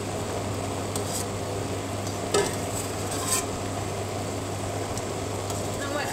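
Strawberry and elderflower jam bubbles and sizzles in a pot at a rolling boil, a steady close hiss with a few soft clinks and stirring sounds.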